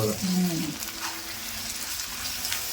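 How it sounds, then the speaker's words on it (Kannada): Amaranth greens sizzle and crackle steadily in hot oil, with a voice briefly at the start. "ಚೆನ್ನಾಗಿ ಫ್ರೈ ಮಾಡ್ಕೊಳ್ಳಿ."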